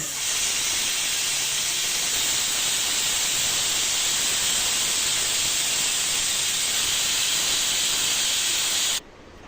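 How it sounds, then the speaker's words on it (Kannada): A pressure cooker of mutton sambar hisses with steady, loud steam for several seconds at close range, then cuts off abruptly near the end. "ಇವಾಗ ಇದನ್ನು ನಾವು ಲಿಡ್ನ ಕ್ಲೋಸ್ ಮಾಡಿಬಿಟ್ಟು ಒಂದು 3-4 ವಿಷಲ್ ಬರೋ ತನಕ ಕೂಗಿಸ್ಕೊಂಬರೋಣ"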